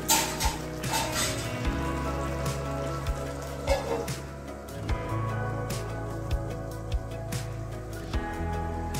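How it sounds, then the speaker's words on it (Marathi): Brinjal curry cooking in a covered pan, a steady soft sizzle and bubbling with faint clinks, alone and close. "दोन मिनिटं झाकण ठेवून शिजवून घेणार आहे."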